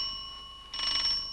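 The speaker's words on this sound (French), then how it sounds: "c'est la sonnette de la porte" A doorbell rings in an animated children's show: a steady, bright electronic tone that swells into a louder, fuller burst partway through, with no talking over it.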